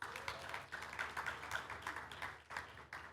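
Brief audience applause for Samsung at a keynote speech, a dense wash of clapping that rises and fades over a few seconds, moderately distant and fairly quiet.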